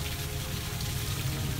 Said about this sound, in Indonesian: Air terjun mini.